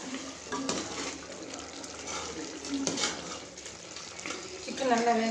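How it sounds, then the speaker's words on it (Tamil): Chicken being stirred in a pot of water while cooking for village-style homemade chicken biryani, giving a steady wet sloshing and scraping texture at close range, with a few louder bubbling splashes near the end. "இப்போ கிளறி விடுவோம்."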